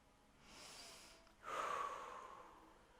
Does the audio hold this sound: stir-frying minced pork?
no